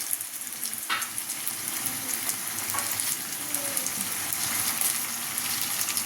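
Tomato tossed into a hot frying pan, a faint sizzle building into a steady frying hiss with a few soft scrapes.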